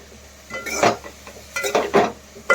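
Cabbage being stirred in a cooking pan and a lid set on top: a few sharp metallic clinks and scrapes of utensil and lid against the pan, close and fairly loud, in separate bursts with quiet gaps between them.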